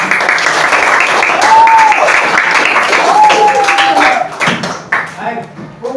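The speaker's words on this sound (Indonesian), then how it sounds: "kita kasih tepuk tangan untuk" An audience claps in a classroom or lecture, loud and sustained for about four seconds, then the applause tapers into scattered claps while voices talk over it.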